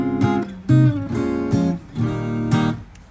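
Clean electric guitar chords ring out through an amp, four strummed hits with short sustains, bright and close with no voices.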